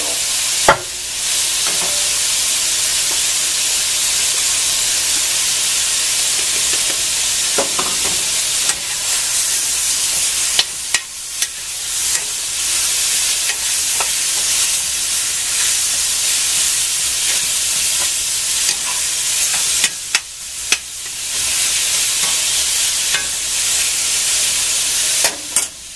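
Sausage fries with canned Rotel tomatoes in a pan, giving a loud, steady hiss and sizzle for the whole stretch, broken by a few sharp pops and crackles.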